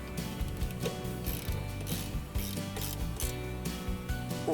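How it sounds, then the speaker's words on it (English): A spanner ratchets steadily to tighten a bolt on a Cobra Fortis cylinder lawn mower's quick-exchange cartridge, giving continuous close metallic clicking with no talk. "And then we just want the spanner to tighten it up."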